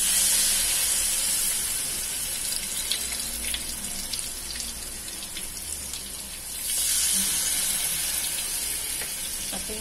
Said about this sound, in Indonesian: sekarang saya mau goreng